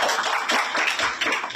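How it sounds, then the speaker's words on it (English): An audience claps for an event's ICT team, a brief burst of many hands pattering together in fairly even, moderately loud applause. "Please let's also clap for the ICT team."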